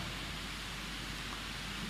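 Steady rain falls at night with an even, unbroken hiss that holds at the same low level throughout, and no voices can be heard.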